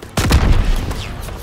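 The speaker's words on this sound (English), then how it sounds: "They're shelling that beach to shit!" Artillery shells pound a beach in the Call of Duty WW2 game: a sharp blast, then heavy rumbling booms and crackling reports that roll on densely for over a second, loud and close.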